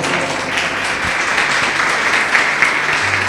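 A church congregation claps hands together loudly and steadily in a dense, continuous wash, with a low sustained tone humming faintly underneath.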